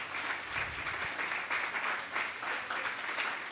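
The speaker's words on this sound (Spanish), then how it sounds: "Dele una ofrenda de palmas al Señor." Church congregation applauding during a worship service, a steady wash of many hands clapping that fills the room evenly without pause.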